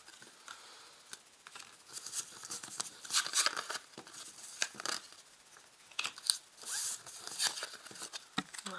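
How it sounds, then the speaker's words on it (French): Tarot cards shuffled, slid and stacked as a deck is gathered up and put away, a run of close, soft papery swishes and flicks with no talking. "je vais ranger toutes mes cartes"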